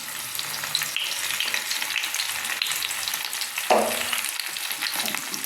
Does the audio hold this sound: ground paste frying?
yes